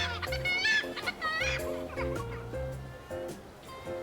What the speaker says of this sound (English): The seagull's laughter becomes louder.